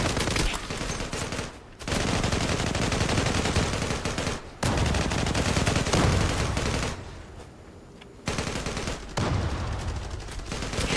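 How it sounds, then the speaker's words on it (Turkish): Gunfire from the online shooter Zula: sustained automatic bursts, dense and loud, broken by brief pauses between long strings of rapid shots, with no talking over them. "Biraz daha iyi vurdum bu sefer."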